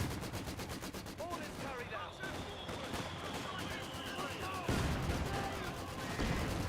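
Battle din from Company of Heroes 2 with a machine gun placement firing, steady rapid rattling bursts under continuous layered combat noise and occasional whistling effects, fairly dense and unbroken throughout.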